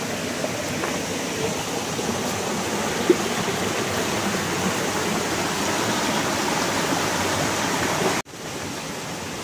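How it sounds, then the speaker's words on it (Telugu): Water pours steadily at Palakondallu waterfall near Kadapa as a constant, loud broadband rush, unbroken and without speech until a sudden cut near the end. "అక్కడ వాటర్ చూడు ఎట్లా వస్తుంది."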